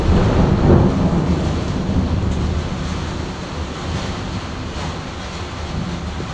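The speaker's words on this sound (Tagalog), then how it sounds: "Kaya malakas ang kulog guys." Loud thunder rolls and rumbles through a heavy rainstorm, the deep roar strongest near the start and then settling into a steady, dense wash of rain. No one speaks.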